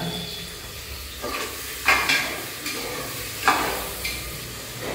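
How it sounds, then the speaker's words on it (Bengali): Mutton cooking in a pan gives a steady soft sizzle, with a few sharper scrapes and clinks of stirring at irregular moments, heard close and alone. "ওইদিকে মাংস মটন চলছে রান্না"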